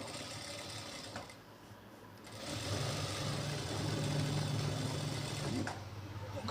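An electric sewing machine stitches a kinari border onto garment lining, its steady mechanical whirr rising into a louder continuous run midway with faint handling noises, no talk.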